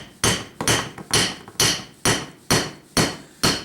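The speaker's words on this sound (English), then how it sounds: "And you can hammer this so that it's quite a bit wider and flatter than it was when it was round." Round craft wire for a heart ornament is hammered flat, eight sharp, evenly spaced metallic blows ringing out close and loud, each decaying briefly before the next strike.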